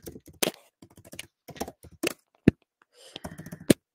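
An email is typed on a computer keyboard, a close run of quick, uneven key clicks in short bursts with a few louder taps, likely the space bar or enter key. No one speaks.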